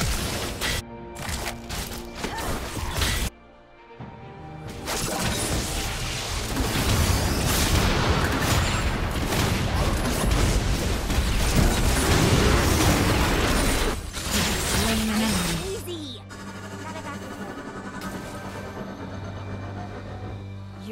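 Jinx firing her weapons in a League of Legends: Wild Rift match, a sustained barrage of rapid shots and booming pops for several seconds, followed by quieter game sounds.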